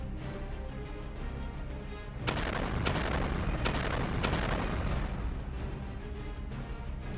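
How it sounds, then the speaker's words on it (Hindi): A missile striking the front of a ship at sea sets off a heavy blast, heard as several sharp, loud booms in quick succession over a dense, continuous roar of noise. "जैसे ही ये मिसाइल जहाज के आगे के हिस्से पर लगती है, वैसे ही उसमें जोरदार धमाका होता है"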